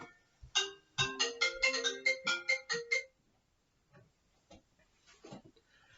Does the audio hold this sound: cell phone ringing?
yes